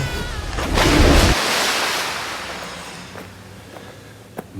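A rushing waterfall sound effect surges in a third-grade class activity, a loud broad roar that peaks early, then slowly fades over several seconds, ending with a faint click.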